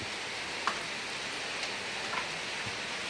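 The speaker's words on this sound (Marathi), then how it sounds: "अचानक पाऊस पडू लागलाय" Sudden rain falling in a village, a steady soft hiss of rainfall with occasional faint drops striking a surface nearby.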